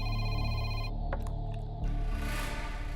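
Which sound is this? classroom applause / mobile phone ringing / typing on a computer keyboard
mobile phone ringing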